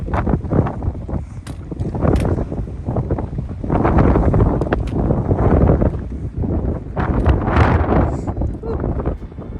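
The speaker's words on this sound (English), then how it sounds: "It's a bit breezy." Strong wind gusting across a microphone on a mountain summit along the Appalachian Trail, a continuous loud buffeting roar that swells and eases, with people talking intermittently underneath.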